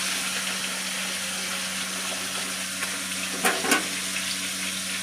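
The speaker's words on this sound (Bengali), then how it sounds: "মাছ ভাজতে আমার আবার খুব ভয় লাগে" Fish pieces frying in hot oil in a pan on a home stove, a steady close sizzle filling the whole stretch with a couple of sharper spits and crackles near the end.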